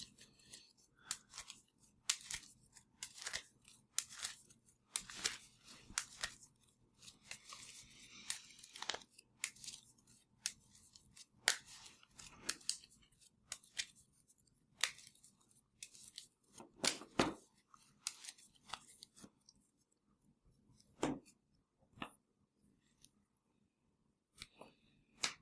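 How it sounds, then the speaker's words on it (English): A Magic: The Gathering deck being shuffled, heard as irregular bursts of sharp card riffles and slaps spread over about 25 seconds, moderately close and fairly quiet. "We're going to shuffle."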